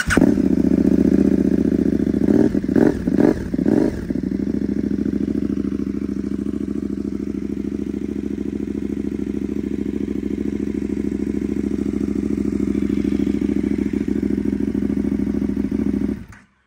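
A 2020 KTM SAS motorcycle engine with a 17-inch front wheel idles loud and steady through its exhaust, with a few quick throttle blips and clattery revs early on before settling into a constant throaty drone.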